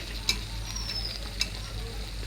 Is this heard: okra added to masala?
yes